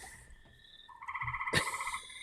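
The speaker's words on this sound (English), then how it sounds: "I don't know how well these frogs, the noises of the frogs are coming through" Frogs croaking at night, faint overlapping calls with a rhythmic pulsing chorus that grows louder toward the end, with no voices.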